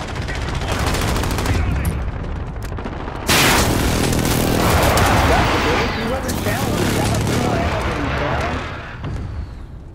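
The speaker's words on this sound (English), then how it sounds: "Be advised, friendly precision airstrike inbound." Friendly precision airstrike explosions in Call of Duty: Modern Warfare, loud blasts and rumbling booms mixed with bursts of gunfire, a heavy strike landing around the third second and carrying on as sustained roaring chaos.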